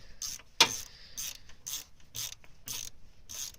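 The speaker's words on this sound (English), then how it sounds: "continue it the rest of the way with the ratchet. Snug it tight." A hand ratchet snugs a bolt on the brake caliper of a 1995–2005 Dodge Neon in repeated short bursts of rapid clicking, with one sharp metallic knock early on, close up and with no talking.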